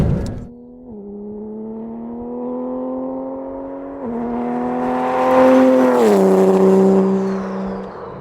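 A twin-turbo Porsche GT3 RS engine revs steadily and close, its pitch climbing in stages with a strong surge and whoosh near the peak before the revs drop and settle again, with no talking over it.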